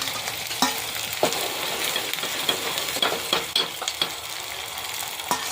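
Chilies and tomatoes fry with cumin in a pan for samosa filling, giving a steady close sizzle broken by frequent light scrapes and clicks of stirring.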